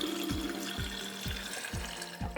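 Warm dye liquid poured for dyeing yarn before ironing, a close, steady trickle with faint rhythmic glugs repeating about every half second.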